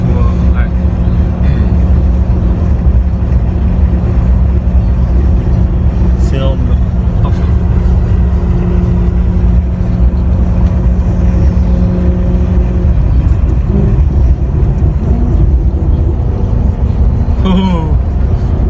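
A Maserati GranTurismo S V8 hums steadily from inside the cabin with a constant low drone, and the pitch shifts slightly near the end. Voices talk over the engine.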